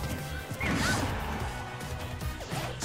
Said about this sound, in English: down smash on the shield, getting forward smashed.